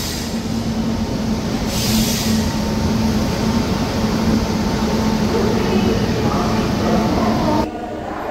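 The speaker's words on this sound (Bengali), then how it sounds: "আটটা 45 বাজে সাঁতরাগাছি স্টেশনে এই মুহূর্তে আমাদের ট্রেন ঢুকলো" Local train pulling into Santragachi station, a loud steady rumble of wheels and carriage noise from inside the coach, with a brief hiss partway through and the roar easing near the end.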